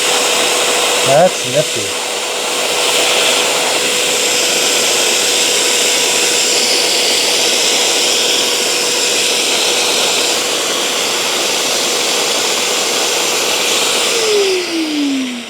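A BISSELL Spot Clean ProHeat Pet 2513W portable carpet cleaner runs with a steady, loud motor whine and a constant hum, starting after a brief clunk and winding down near the end; a voice speaks briefly at the start.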